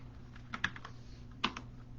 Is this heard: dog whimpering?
no